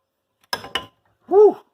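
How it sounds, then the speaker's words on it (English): Two light, close hammer taps on a stuck part of a Kohler Magnum M18 engine during disassembly, a quick pair of sharp metallic knocks followed by a short vocal sound. "I'm not hammering very hard at all."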